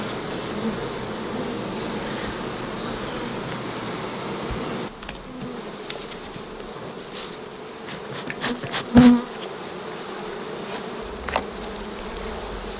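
Honey bees swarm around an open hive during a honey harvest, giving a steady close buzzing drone with a few louder passes as individual bees fly near.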